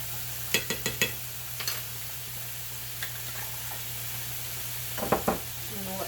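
Chopped onions and garlic sizzle in a pan with a steady low frying hiss, broken by several sharp clicks and taps of a utensil, with a few more near the end.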